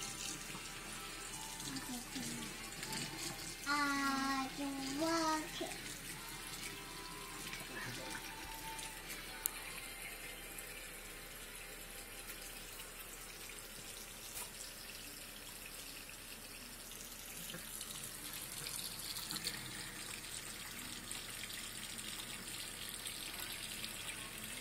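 A faucet runs continuously into a sink with a steady hiss and splash, while a voice briefly chimes in early on.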